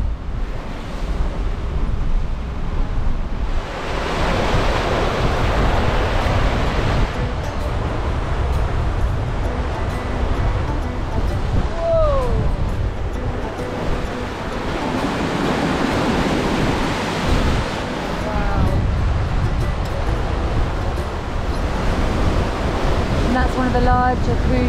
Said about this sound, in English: our waves are definitely getting bigger